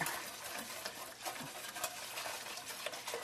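A spoon stirs potato flakes into a cheesy potato soup, giving a quiet, continuous swishing with light scraping and faint clinks against the pot, with no voices.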